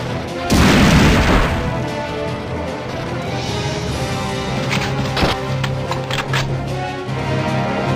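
A single loud gunshot boom from a soldier's weapon in the tactical war game Valkyria Chronicles 2, followed by a few sharper cracks and a steady rumbling battle backdrop.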